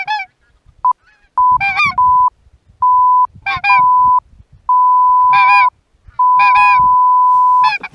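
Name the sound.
geese honking during goose hunt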